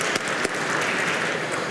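An audience at a community year-end awards event claps for an honoree, giving dense, sustained applause that fills the room steadily from start to finish.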